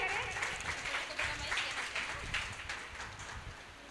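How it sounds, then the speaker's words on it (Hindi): An audience at a children's poetry gathering for a Jain festival claps to welcome a young poet, a few seconds of steady applause that gradually thins out, with voices murmuring underneath. "जोरदार तालियों से स्वागत करें।"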